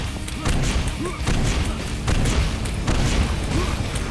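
Rocket explosions in the Painkiller video game, a series of loud booming thuds over a dense, noisy game background, arriving every second or so with no talk.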